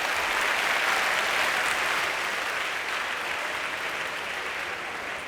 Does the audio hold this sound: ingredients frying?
no